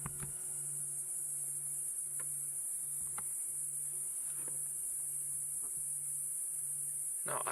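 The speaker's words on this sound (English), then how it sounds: "Can you hear these cicada bugs?" Cicadas calling at sunset on a Sabi Sand safari, a steady high-pitched shrill drone that continues throughout, with a low hum beneath and a few faint clicks and knocks.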